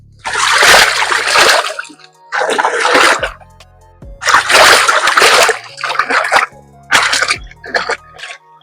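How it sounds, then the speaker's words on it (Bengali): Elephant foot yam being washed by hand in water at a pond ghat, with loud close splashing and sloshing in repeated bursts separated by short quiet gaps. "এই ঘাটে একটু বসে বসে ওলটা এবার ধুয়ে নেবো"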